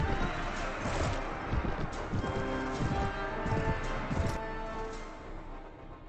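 Rhythmic hoofbeats of a galloping horse in Mount & Blade: Warband with the Floris mod pound under a dense wash of battle noise and music, steady and fairly loud.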